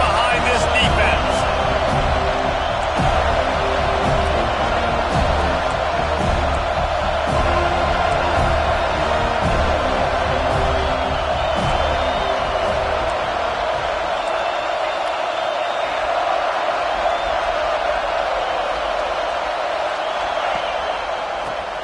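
A virtual stadium crowd in a college football video game, Florida State the opponent, roars in a loud, continuous rumble with rhythmic thuds early on, thinning later, under play-by-play commentary.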